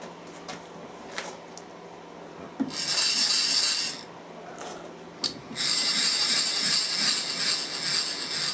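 A file rasps against a milled alloy metal part to remove burrs, giving two bursts of steady scraping, each lasting a few seconds, close by with short quiet gaps.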